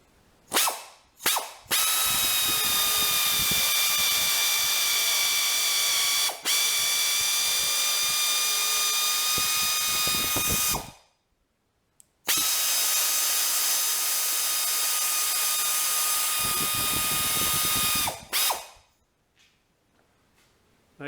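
A power-driven ratchet adapter spins a high-speed tap through holes in steel at 50% thread engagement, producing a loud steady whirring run for about ten seconds, a brief pause, then a second equally long run before it stops.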